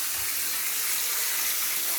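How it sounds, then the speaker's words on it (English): Water sprays from a shower fed by a Delabie thermostatic mixer, making a loud, steady, unbroken hiss that fills the whole clip with no talk. "If I press this up now, the shower comes on."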